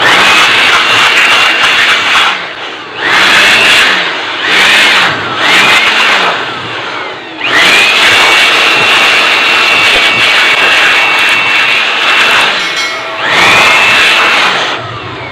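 A handheld electric blower roars in repeated bursts while blowing dust out of an SMPS power supply, several short blasts followed by longer sustained runs, loud and close with no talking.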